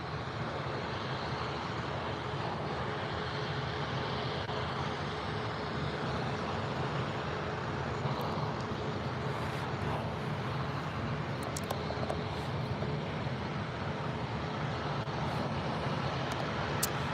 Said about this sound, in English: that looks like a 737 from TUI.